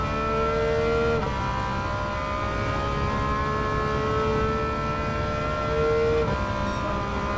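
A Porsche 911 race car engine on soft tires in Gran Turismo 7 roars steadily and loud, its pitch climbing through the revs, dropping sharply at a gear change, then climbing again near the end.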